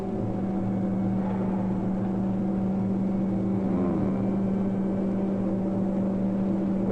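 NASA experimental supersonic airliner on landing approach under visual conditions, its steady low engine and airframe drone filling the cockpit evenly throughout without a break, with no talk.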